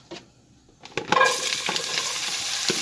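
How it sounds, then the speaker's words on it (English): Onions and peppers hit a hot pan and a loud, steady sizzle follows, with a few clinks of stirring. "you hear that happy sizzle sound"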